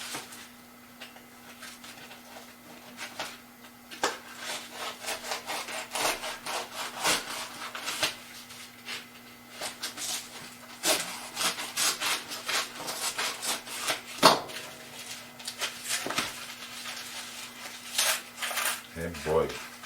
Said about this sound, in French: On peut scier un peu comme avec un couteau à pain.